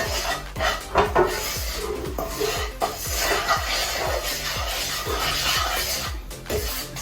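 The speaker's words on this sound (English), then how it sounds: "So just give that a good stir." Butterbean and lentil curry being stirred in a pan, a spoon scraping and rubbing in a steady rhythm of repeated strokes, close and fairly loud over a low cooking hiss, with no talking.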